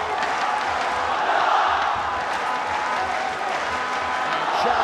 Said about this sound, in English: It sounds like a soccer crowd, a football crowd, but it's a ONE Championship Yangon crowd